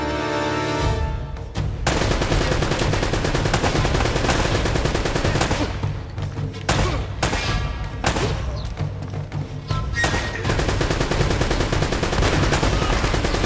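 Gunfire in the game Uncharted: Drake's Fortune: dense, loud rapid shots and automatic bursts crackle almost nonstop over a steady droning backdrop, with brief lulls between volleys.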